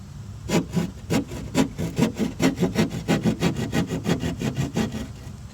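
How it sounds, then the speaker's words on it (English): A hand saw cuts through drywall while a patch is prepared, producing about twenty quick, even back-and-forth rasping strokes that are close and loud, with no talking. "now what you can do is you can literally saw the drywall with ease"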